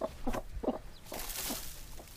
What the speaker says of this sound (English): It's two little leghorns.